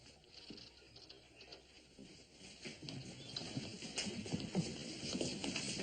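Faint, distant horse hooves clip-clop in an uneven patter over a quiet outdoor background.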